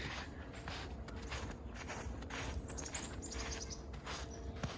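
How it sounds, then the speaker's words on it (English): Faint high chirps of small birds outdoors near an icy waterway, scattered over a steady rustling outdoor background with footsteps. "Here's some birds or something chirping."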